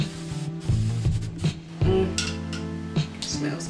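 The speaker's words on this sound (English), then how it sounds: "I need hairspray." Hairspray misted from an aerosol can over natural hair during a curling styling session, a few short close hissing bursts over low room sounds.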